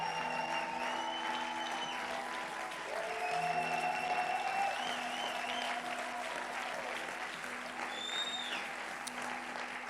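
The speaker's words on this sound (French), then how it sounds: "a applaudi pour le pasteur Benjamin, mais est-ce qu'on peut acclamer pour le Seigneur, notre Dieu?" A church congregation applauds and cheers, steady sustained clapping filling the room with an organ or keyboard chord held beneath and occasional voices rising over it.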